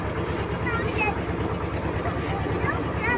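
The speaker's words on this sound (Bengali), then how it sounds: "আমাদের ট্রলার এগিয়ে চলছে নদীর মাছ দিয়ে।" A motorized trawler boat travels along a river with a steady, loud engine drone and rushing wind and water noise throughout, while people talk faintly in the background.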